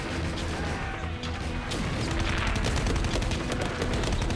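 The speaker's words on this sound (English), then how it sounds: "They alternate firing and reloading until one of them is killed by a shot from the trench." Browning automatic rifles firing in a World War II battle on Iwo Jima, a dense, loud, continuous barrage of crackling bursts and impacts.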